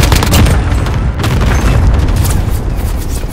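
Air strike explosions in Call of Duty Modern Warfare make a loud, continuous heavy booming rumble that stays dense and close for the whole stretch, with no voices.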